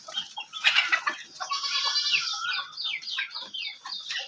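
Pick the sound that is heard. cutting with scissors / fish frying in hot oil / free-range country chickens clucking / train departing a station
free-range country chickens clucking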